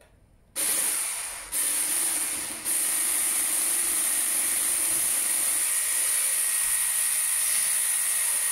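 A handheld electric mixer whips dalgona coffee, a steady high-pitched whirring hiss that starts abruptly, briefly dips, then holds constant and close.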